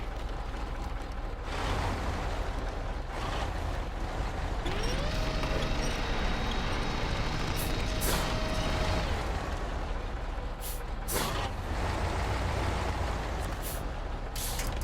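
An Azov truck engine rumbles in the SnowRunner video game, a heavy, steady drone with a rising tone mid-way and several sharp hissing bursts like air brakes, loud and continuous throughout.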